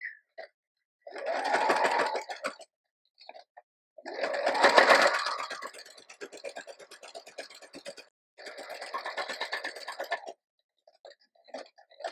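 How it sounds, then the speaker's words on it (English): A sewing machine stitches through paper for a junk journal in three bursts of rapid needle chatter, close and steady, separated by short pauses and faint handling clicks. "And I'm going to sew right on the pink."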